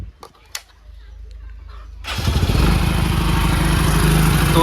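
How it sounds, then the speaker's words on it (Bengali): A motorcycle engine cranks briefly, then catches at about two seconds and settles into a loud, steady close-up idle, with a voice audible before it starts. "বাইকটি স্টার্ট দিই।"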